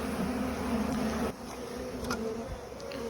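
A package of honeybees being installed into a hive gives off a steady, close buzzing drone that runs without a break and dips briefly partway through, with a few faint knocks. Nobody speaks.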